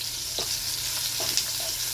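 Pork frying in its own rendered fat gives a faint, continuous sizzling hiss with a few small spattering pops, steady throughout and without speech.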